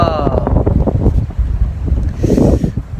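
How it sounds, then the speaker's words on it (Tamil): Strong wind buffets a mountain viewpoint during a snowstorm with rain and cold, roaring loudly against the microphone. A voice is heard briefly over the gusts. "காற்று ப்ளஸ் மழை ப்ளஸ் பனி ப்ளஸ் கூதல்"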